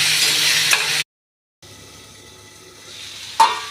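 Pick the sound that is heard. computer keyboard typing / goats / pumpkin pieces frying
pumpkin pieces frying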